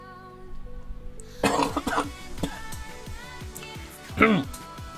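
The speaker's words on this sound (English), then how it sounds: "Cough, cough, cough." Several coughs in a short burst, close to the mic, with soft background tones beneath and a throat-clearing hack near the end.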